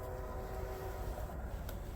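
Freight train 11R, a manifest with four locomotives leading, rumbles past as a steady low roar with a faint horn-like tone, fairly quiet and continuous, with no talking.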